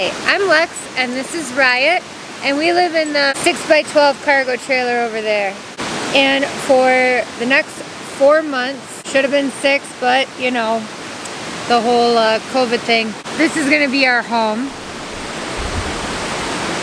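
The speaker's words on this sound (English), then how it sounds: "What you hear is the Clackamas River." The Clackamas River rushes in a steady, hissing wash beneath someone talking nearby, and the water carries on alone once the talking stops.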